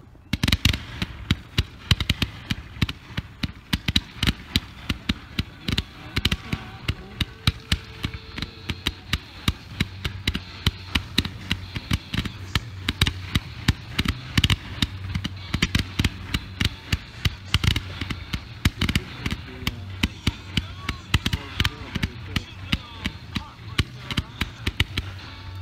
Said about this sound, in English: 130 shot Z gold glitter comet.